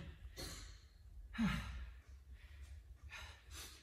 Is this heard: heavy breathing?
yes